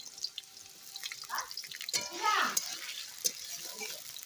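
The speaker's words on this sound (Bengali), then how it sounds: "তাই তেলটা গরম হয়ে গেছে, এখন আমি আলুগুলো এর মধ্যে দিয়ে দেবো" Small diced potatoes hit hot oil in a pan and fry with a burst of crackling sizzle, stirred with soft scraping and clinks amid a watery background hiss.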